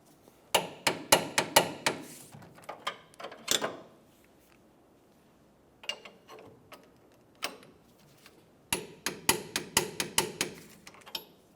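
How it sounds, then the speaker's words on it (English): Ratcheting clicks from a torque wrench tightening a rear air shock bolt to 70 foot-pounds on a 1999-2006 Chevrolet Silverado 1500, in rapid bursts of sharp ticks separated by short pauses, close and clear without talk. "Let's go ahead and torque it to 70 foot-pounds."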